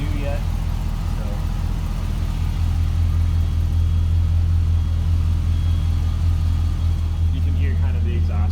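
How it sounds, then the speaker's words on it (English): A 2003 GMC Sierra 2500HD pickup, rust-free, idles with a deep, steady exhaust rumble up close. A voice talks over it. "You can hear kind of the exhaust note."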